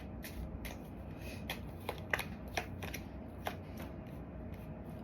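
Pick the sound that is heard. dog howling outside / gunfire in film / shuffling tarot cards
shuffling tarot cards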